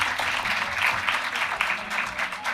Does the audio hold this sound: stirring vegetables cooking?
no